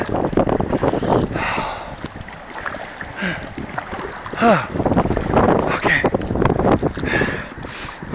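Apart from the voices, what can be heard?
wind blowing against a kayak on the Provo River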